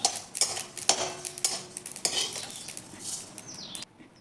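Roasted sesame seeds are scooped out of a pan for flaxseed laddoos: a metal spoon scrapes and clinks several times against the pan in quick close strokes, then the sound stops abruptly.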